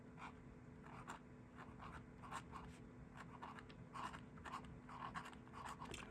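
A first-generation Parker Standard Vacumatic fountain pen from around 1935 writes on paper, giving faint, close scratchy strokes in short irregular bursts over a quiet background.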